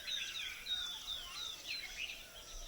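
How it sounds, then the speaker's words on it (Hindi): Small birds chirp in repeated short high calls on a rainy monsoon morning in a hill village, faint and distant over a soft steady hiss of rain, with no talking. "चिड़ियों की आवाज़ के मज़े"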